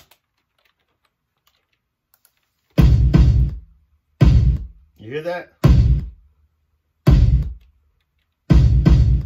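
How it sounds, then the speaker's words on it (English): Layered straight kick drums with no 808 hit in punchy, booming bursts with short tails, spaced by brief silences. A voice speaks briefly between the hits. "No 808. That's all straight kicks."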